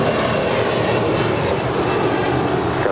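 A United airliner takes off from runway 25 right at LAX, a continuous loud, broad engine roar that holds steady throughout.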